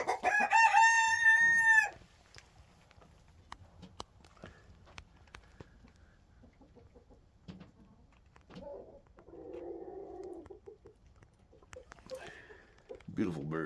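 A rooster crows loudly close by for about two seconds, followed by scattered soft clucks and a brief low call from backyard chickens, with a person talking quietly at times.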